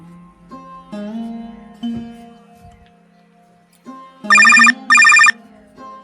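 A telephone rings in two short, loud bursts near the end, following quieter tonal sounds earlier on.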